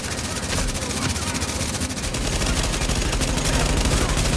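Rapid, continuous gunfire from a shooting video game, loud dense bursts of shots rattling steadily for several seconds without pause.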